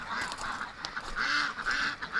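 Ducks in a pen quack and honk in agitated, overlapping calls, several birds close by and fairly loud, with no talking.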